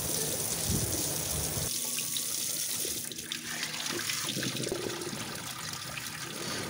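Water gushes from an opened tap pipe during a tap spindle repair, a loud hissing rush that suddenly drops to a softer, steadier trickling flow partway through, with no talking.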